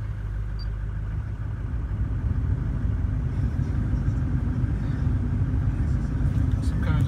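A Ford F250 diesel engine idles with a low, steady rumble close by, growing slightly louder partway through, with a speaking voice faintly present over it.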